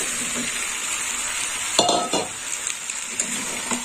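Fried potatoes stirred into green jackfruit curry sizzling in a pan, a steady frying hiss with a sharp clink of utensil against the pan partway through and softer scraping after.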